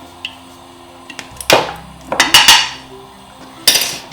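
A large wok is handled on the stove, giving several loud metallic clanks and scrapes in irregular bursts, with small clicks between and quiet gaps, no talking.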